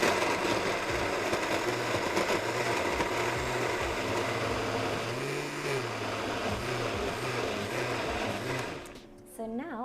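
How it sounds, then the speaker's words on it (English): A kitchen blender whirring loudly and steadily as it grinds a spice paste of poppy seeds and water for a Malaysian fish head curry, running close and continuous with its motor pitch wavering, then easing off near the end. "and give this a good blending."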